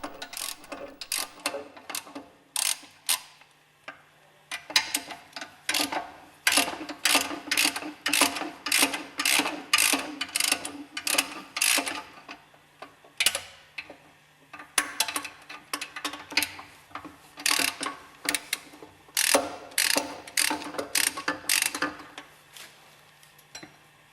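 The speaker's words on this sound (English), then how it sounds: "Unscrew the hex head screws on the bearing housing." Hex head screws being unscrewed on the bearing housing of a Westfalia purifier during an overhaul, giving a long run of rapid ratcheting clicks in bursts, close and fairly loud, with short pauses between runs.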